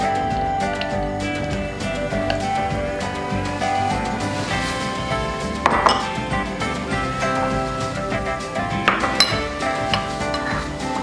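Sour cream being mixed into a potato salad dressing in a bowl, heard as repeated clinks and scrapes of a utensil against the bowl over a musical background, with a few sharper knocks.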